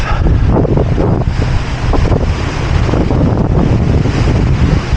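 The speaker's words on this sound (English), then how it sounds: "Let's check out the surf" Ocean surf rolling onto a San Diego beach near Imperial Beach, steady broadband wash with heavy wind buffeting the microphone throughout, loud and continuous with no voices.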